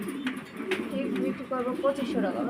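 Pigeons coo at a pigeon farm in Bangladesh, several close, warbling coos overlapping and repeating, with a voice talking in the background.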